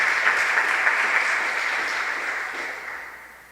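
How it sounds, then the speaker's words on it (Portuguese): Applause from a church audience after a talk about Saint Louis Martin, steady bright clapping that gradually fades toward the end. "Aplauda."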